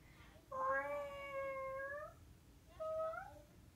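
A voice imitates a cat, giving two drawn-out meows, the first long and the second shorter, close and clear over faint background hiss.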